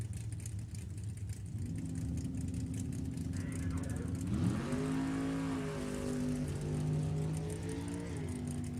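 Drag race cars, including a 1967 Camaro, launch off the line at a drag strip, engines roaring and rising in pitch as they pull away, loud and steady beneath an announcer talking over the track.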